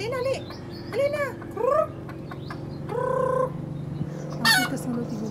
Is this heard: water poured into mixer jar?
no